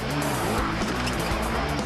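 A car spinning donuts during an X Games motorsport celebration in Austin, its engine roaring loud and steady with tires squealing continuously, dense and close throughout.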